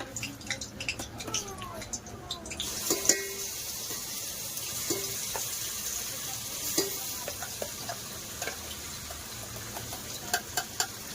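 Curry leaves and ground masala paste frying in hot oil for a chicken rassa, a soft steady sizzle with scattered spatter pops and a few stirring scrapes, moderately faint throughout.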